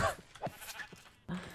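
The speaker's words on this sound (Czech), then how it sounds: "Koukám, tady jsou taky nějaký ovečky." Sheep bleating in the Minecraft video game, a couple of short nasal cries close by with brief gaps between them, alone and without talk.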